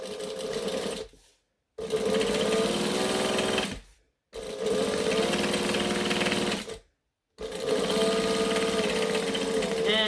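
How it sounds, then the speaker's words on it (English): A sewing machine chain-sews bag pieces in three long, steady bursts of fast motor stitching, separated by brief pauses, close and loud. "this is a good way to chain sew"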